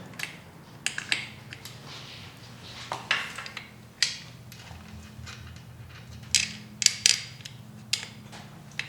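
Bolts are fitted into a Harley-Davidson M8 107 engine being built up to 124, with scattered sharp metallic clicks and taps against a steady low hum, close by and without talk.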